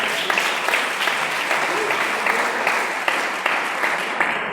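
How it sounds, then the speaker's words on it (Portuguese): A church congregation applauds, a dense, steady wash of many hands clapping at full volume for several seconds. "E as palmas do Senhor."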